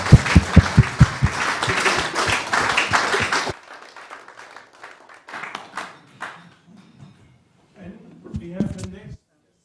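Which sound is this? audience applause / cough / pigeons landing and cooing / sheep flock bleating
audience applause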